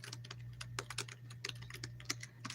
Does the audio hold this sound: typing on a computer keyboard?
yes